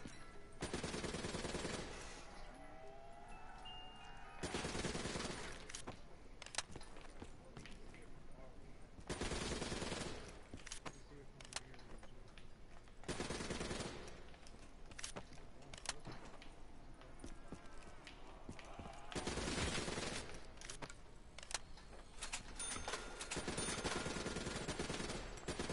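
Bursts of machine gun fire in a zombies shooter game, several rapid volleys separated by short pauses, sharp and fairly close, with a voice speaking faintly in places.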